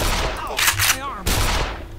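Gunfire in Black Mesa comes as several loud, rapid bursts close by, separated by short gaps.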